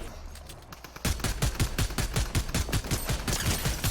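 Twin Mag AR fired on full auto in the Fortnite video game: after a quieter second, a fast, evenly spaced burst of loud punchy shots rattles on continuously, close and sharp.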